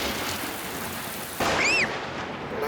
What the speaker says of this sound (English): Mummy, the thunder bangs are very loud.